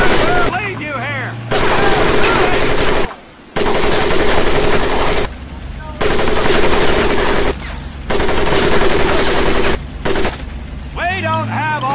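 Machine gun fire in the Medal of Honor: Pacific Assault video game, loud sustained bursts separated by short gaps, roughly five long volleys in a row with a faint voice and whistling sounds in the quiet breaks.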